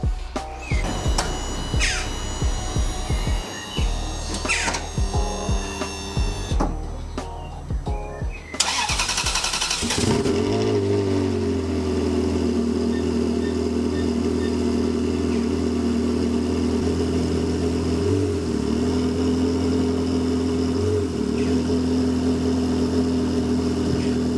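Clattering, clicking mechanical noises, then a Ferrari 360 engine cranks and roars to life, settling into a loud, throaty idle with occasional revs.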